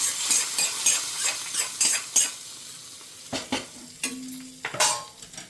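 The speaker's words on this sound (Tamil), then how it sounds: "கடுகு, காஞ்ச மிளகா, கருவேப்பிலை தாளிச்சு கொட்டியாச்சு" Mustard seeds, dried chilli and curry leaves crackle in hot oil, with bursts of sizzling followed by metal spoon scrapes and clanks against the pan.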